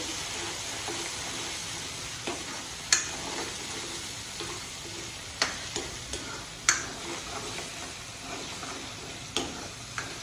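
Oil heating in a pan for stuffed brinjal, with a steady soft sizzle throughout and occasional sharp ticks and clinks of a spoon or utensil, no talking.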